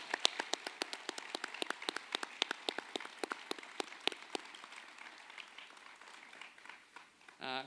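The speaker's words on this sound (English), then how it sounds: "So one huge round of applause for Ms. Howard for that." A school arts evening audience applauds in a fairly quiet room, with scattered individual claps that thin out over several seconds and end in a brief tonal sound.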